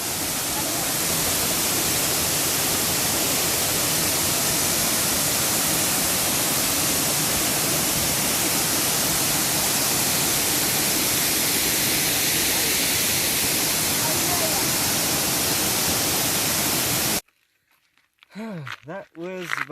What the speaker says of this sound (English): there's a spray coming from the Baker's Falls, and it's making me quite wet.